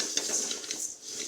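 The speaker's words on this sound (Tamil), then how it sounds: "இப்போ குழம்பு பாத்திரத்தில் முதல்ல பாசிப்பருப்பை நல்லா வறுத்துக்குவோம்." Moong dal dry roasted in a cooking pot, with light metallic scrapes and rattling of grains against the pan at a moderate distance, no voices.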